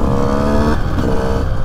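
A motorcycle engine revs loudly and close by while the rider pulls wheelies on the road, its pitch rising and then dropping partway through the short burst.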